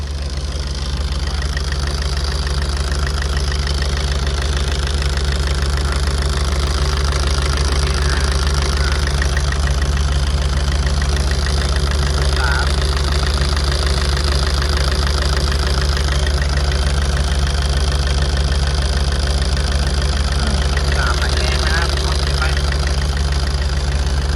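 A Tata 2.2 diesel engine with a black-smoke fault idles in a steady, loud, close drone with a constant low rumble and no change in pace.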